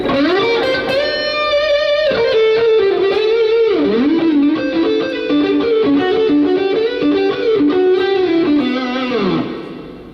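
A heavily distorted electric guitar plays a sustained, gritty melodic line with bends and slides, loud and upfront, fading out at the end.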